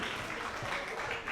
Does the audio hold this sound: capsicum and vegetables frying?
no